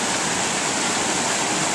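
Spring-runoff creek rushing steadily, a dense, continuous broadband roar of flowing water close by, uniform and unbroken throughout with no voices.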